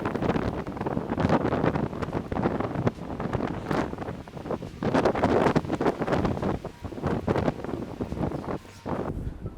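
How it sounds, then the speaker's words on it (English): Strong wind buffets the microphone throughout, a loud, rumbling roar that surges and dips in gusts without any speech. "I'm gonna have to take frequent breaks because it's really windy out here today."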